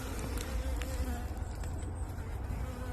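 A dense, steady buzz of many honeybees droning close by at a hive in winter, with individual insects passing near.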